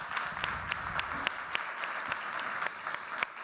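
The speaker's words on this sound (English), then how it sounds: "Please, a round of applause for Sarah." Faint, thin applause from a summit audience in New York, scattered individual claps over a soft wash of clapping heard from a distance.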